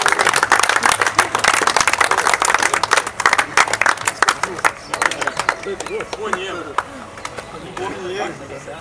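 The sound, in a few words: applause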